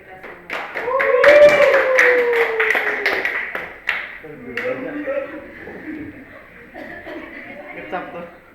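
A room applauds at the close of a university law faculty's civil court practice session: a burst of clapping that thins out, with people talking and a bird cooing nearby.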